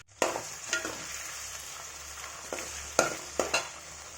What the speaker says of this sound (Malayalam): കടുകൊന്ന് പൊട്ടി വരട്ടെ.